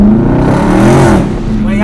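A Dodge Challenger widebody Daytona 392 roars with a loud, close-up engine rev that swells and then eases slightly, with voices mixed in under the engine.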